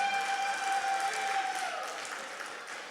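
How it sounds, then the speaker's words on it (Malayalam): Audience applause at an Onam celebration held by a Melbourne community group, a steady wash of clapping from a crowded hall that slowly fades over a few seconds, with no talk on top. "അലക്സിനൊരു ബിഗ് ക്ലാപ്പ് എല്ലാവരും കൊടുക്കുക പ്ലീസ്."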